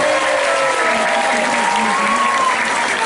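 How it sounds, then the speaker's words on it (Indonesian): Steady, dense applause from a large crowd at an Islamic sermon gathering, loud and continuous throughout with no pauses. "Tepuk tangan untuk jamaah sebelah sini."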